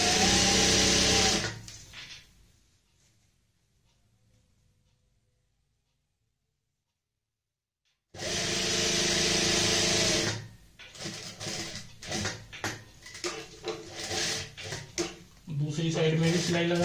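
A sewing machine stitches the handle of a homemade waterproof shopping bag in close, loud bursts: a short run, a long quiet pause, then longer stretches of stitching with brief stops.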